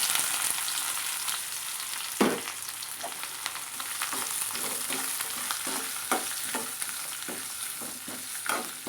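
Onions and green chillies sautéing in a pan, a constant close sizzle broken by repeated scraping stirs of a spatula, one sharp knock early on, with no talking.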